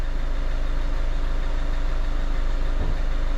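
Van engine idling steadily after a repair for a P0204 cylinder four misfire, a loud, even low rumble with a smooth, regular pulse and no voices.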